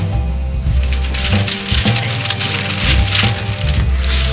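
Sugar pours into a cookie mixture in a bowl, a loud grainy rushing hiss that swells and fades in several surges, with soft knocks and thuds underneath.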